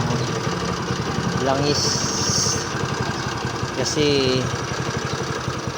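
Kawasaki Rouser 135 motorcycle engine idling after a timing chain and chain guide replacement, a steady close mechanical rattle running under a man's speech throughout.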